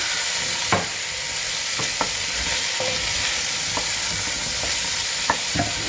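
Steady loud sizzling of potatoes added to a hot pot with onions, with occasional sharp clicks and scrapes as pieces are stirred in, no talking.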